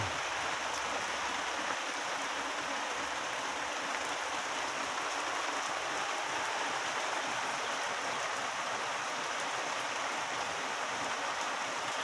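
Steady, dense rain pours down during a storm in Guelph, a continuous broadband hiss with no breaks, even and moderately loud throughout.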